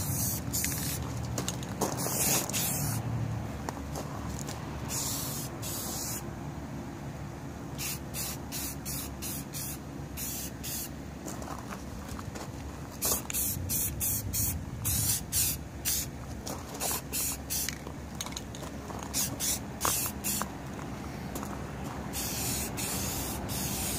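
Rust-Oleum spray paint on a camper water heater cover, a series of short and long bursts of aerosol hiss with quiet pauses between them, close by and without talk.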